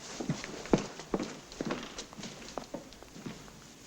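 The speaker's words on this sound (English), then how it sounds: "Shall I get the horses, my lady?" Horses' hooves clip-clop in a steady, uneven patter at moderate distance, each strike a soft, distinct knock without voices.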